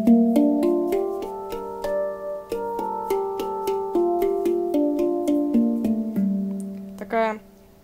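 A Pygmy mini hang handpan, 48 cm, in G tuning, is struck in a steady melodic run of bright bell-like notes with long ringing sustain, played close and clear and ending in a brief shimmering flourish, with no voice.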